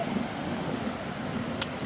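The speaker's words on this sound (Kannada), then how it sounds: "ಗಾಳಿ ಮಾತ್ರ ಹೆವಿ ಐತೆ" Strong wind gusting across Gokarna beach, a steady broadband roar buffeting the microphone throughout, with a faint wash of surf underneath and no voices.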